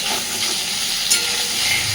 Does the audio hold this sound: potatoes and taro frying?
yes